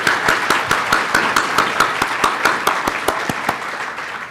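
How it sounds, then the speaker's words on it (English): A small audience at an ethics chapter meeting gives a round of applause for panelists: a few close, distinct hand claps in a steady rhythm, moderately loud, over a thin wash of scattered clapping. "Let's have another round of applause for our panelists"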